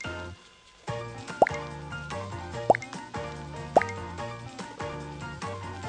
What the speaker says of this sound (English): That cork can plug the hole and stop the water spilling out.